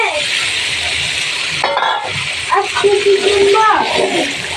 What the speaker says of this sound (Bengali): মশলাটাকে নেড়ে সেড়ে কষিয়ে নিচ্ছি